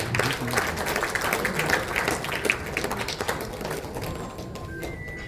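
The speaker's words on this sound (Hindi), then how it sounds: "जोरदार तालियों से अपने मुख्य न्यायाधीश का स्वागत और अभिनंदन करें" An audience at a Chief Justice's welcome ceremony applauds with dense, sustained clapping that continues throughout and thins slightly toward the end.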